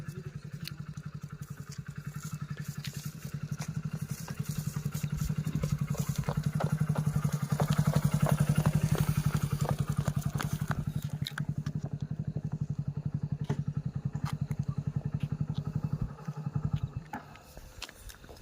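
Motorcycle engine running steadily for the whole stretch on a road at night, a loud, close, continuous throbbing drone that rises in the middle and drops away near the end, with scattered clatter and no speech.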